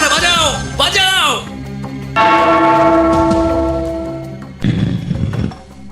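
A small bell rung in a Gopal Bhar cartoon, sounding as a sustained, ringing tone that decays slowly, preceded and followed by loud animated voices.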